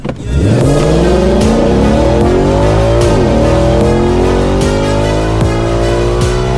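A Supra or Mustang launched at full throttle in a quarter-mile drag run, engine pitch sweeping up through the gears with a brief dip at a shift, loud and close, no talking.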